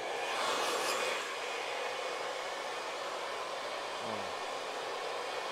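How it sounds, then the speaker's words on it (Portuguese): A hair dryer blows steadily at close range while drying hair in a barbershop before a scissor haircut, a loud continuous whooshing hiss that stays constant throughout. "Vou pegar aqui um secador aqui"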